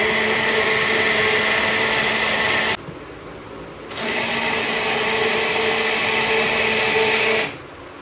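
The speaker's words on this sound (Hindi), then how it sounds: "मैंने ब्लेंड कर दी है" A kitchen blender whirs loudly and steadily through a tomato mixture, cuts out for about a second, then starts again and runs until it shuts off near the end.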